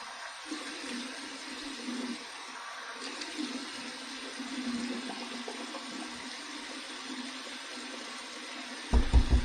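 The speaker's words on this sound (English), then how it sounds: "Here's the cold water rinse." Cold water runs steadily from a tap into a sink during an evening head shave, a constant hiss and splash with a brief louder knock at the end.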